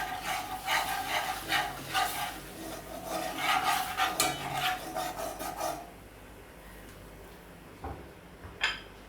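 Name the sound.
curry powder frying in hot oil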